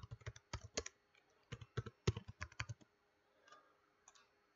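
Keys clicking on a computer keyboard while entering text into an Excel spreadsheet, in quick bursts of close, crisp keystrokes separated by short pauses, trailing off into faint scattered taps.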